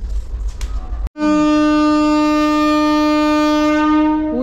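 After a brief burst of ambient rumble, a train horn blasts loud and sustained with a rich, steady chord for several seconds, on a train journey through an elephant forest, the tone wavering slightly at the end as the train begins to move.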